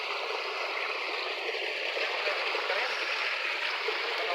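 Floodwater after heavy monsoon rains rushes strongly along a road, a steady, close, full-bodied roar of moving water that holds constant throughout.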